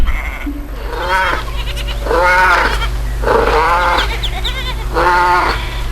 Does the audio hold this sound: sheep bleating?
yes